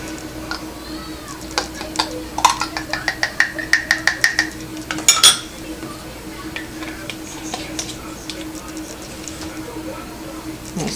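Homemade hand sanitizer with aloe vera gel shaken in a container: a rapid run of rattling, knocking shakes that builds to a few louder clacks, heard over a steady background hum with no clear speech.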